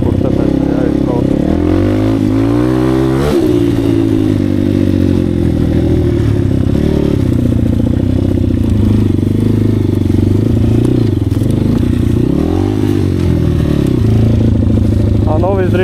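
An Asix Defender 150 off-road vehicle churns through boggy ground, its engine droning and revving steadily close by, with clattering and scraping from the chassis while people talk over it.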